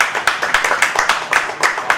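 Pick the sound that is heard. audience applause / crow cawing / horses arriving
audience applause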